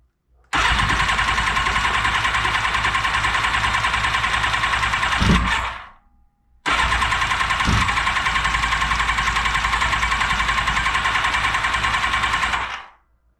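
A repaired Yamaha FZR 1000 (3GM) motorcycle engine starts and runs loudly in two sustained bursts of about five and six seconds, each settling into a steady rough roar before cutting out, with a brief silent gap between them.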